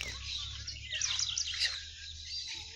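Quick, bright chirps and trills from a caged papa-capim songbird come in a short burst over a low steady hum, fairly faint.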